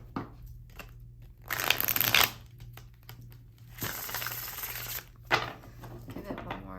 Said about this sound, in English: Give it one more good shuffle.